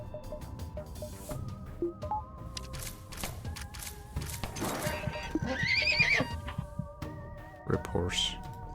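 A horse whinnies loudly amid clip-clop hooves in the space game FTL Multiverse, with tonal game sound effects and a person talking over it.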